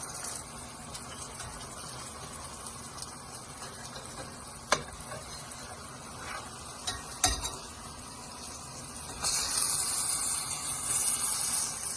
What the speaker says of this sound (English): Now that you've flipped the French toast over and the sugars are really caramelizing now